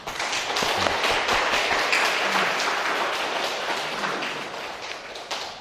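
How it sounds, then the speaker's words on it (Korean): A church congregation in Jeju breaks into welcoming applause during a Sunday Mass homily, a dense, steady wash of many hands clapping that holds evenly and tapers slightly at the end. "우리 환영하는 박수 한번"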